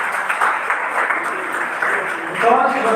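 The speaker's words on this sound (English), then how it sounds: "पर फिर भी तालियों में कोई कमी ना की जाए प्लीज" An audience at a college event claps, a dense, steady patter of applause filling the hall with a brief swell near the end and voices mixed in.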